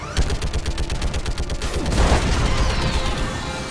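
Rapid sustained gunfire from a Mass Effect 3 battle against a Reaper, dense machine-gun bursts crackling loudly and continuously, followed by a heavy booming rumble.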